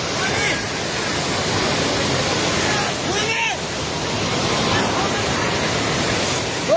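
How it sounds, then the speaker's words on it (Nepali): Trishuli River in flood near Trishuli bazaar, a loud continuous roar of rushing water filling the whole clip, with voices and a brief disturbance partly masked by the torrent. "पानी नजिक आइसकेको छ"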